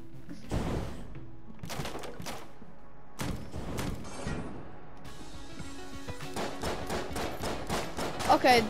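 Rapid bursts of gunfire from eye enemies in Enter the Gungeon, clustered volleys of sharp cracks in several waves that grow into dense rattling toward the end, with someone talking over the shooting.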